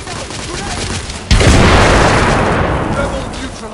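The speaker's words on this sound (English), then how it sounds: "Grenade!" A grenade goes off with a sudden, heavy blast in The Order: 1886 game, its booming roar decaying slowly over a few seconds amid battlefield noise, with shouted voices around it.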